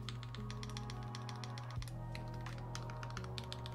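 Someone types quickly on a FinalKey V65 R2 mechanical keyboard, a close, steady run of clacking keystrokes with a faint low hum running underneath.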